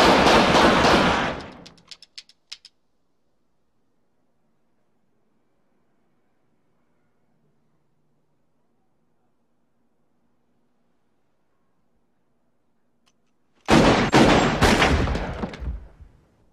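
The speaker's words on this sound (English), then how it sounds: "You see the size of that gun he fired at us?" Gunfire from a Pulp Fiction movie scene: a loud, dense burst of shots opens, a long near-silence follows, then another heavy volley erupts near the end.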